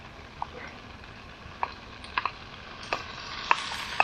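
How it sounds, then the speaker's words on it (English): Rice is stirred and tossed in a pan for pork fried rice at a state park campsite, giving a faint steady sizzle broken by scattered light clicks and scrapes of the utensil. "Alright, gonna add the rice into it."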